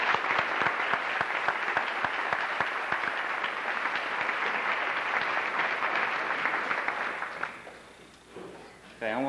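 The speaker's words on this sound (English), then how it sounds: "We'll give you a big round of applause." An audience at a 1989 Rush Springs graduation and all-sports banquet gives honorees a big round of applause: dense, loud clapping for about seven seconds that then thins and fades.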